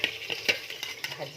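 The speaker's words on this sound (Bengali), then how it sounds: "এই যে মাছগুলো ভাজা হয়েছে" Fish pieces frying in a pan, a brief soft sizzle broken by a few scraping clicks as a utensil stirs and turns them.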